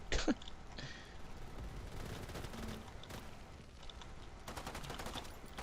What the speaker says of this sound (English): Okay, let's not tap fire an LMG.